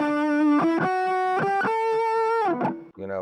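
A sustained, distorted electric guitar tone rings through an amplifier, with several picked notes and a pitch slide near the end, loud and up close.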